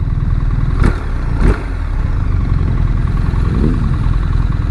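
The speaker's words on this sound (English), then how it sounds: "Also has the Akrapovic exhaust." A BMW R1300GS motorcycle with an Akrapovic exhaust idles with a deep, throaty exhaust burble, steady and close, with a couple of brief sharper blips.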